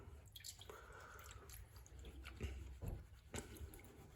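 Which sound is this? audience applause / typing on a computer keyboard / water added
water added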